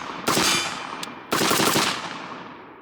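A suppressed BCM 11.5-inch short-barreled AR rifle with an H2 buffer fires two sharp, loud shots about a second apart, each with a long decaying tail, plus a faint click between them.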